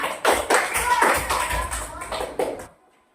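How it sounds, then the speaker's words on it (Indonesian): Students in an Islamic religious education class clap together in a few uneven bursts mixed with voices, close and moderately loud, then fall silent at the end. "nah tepuk tangan untuk kita semua."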